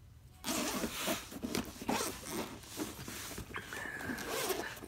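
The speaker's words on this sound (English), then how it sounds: "And here we go, the nice zipper," A rubber-pulled zipper being drawn open around a massage gun carrying case, a series of close, raspy zipping strokes in quick bursts over about four seconds, with no talking.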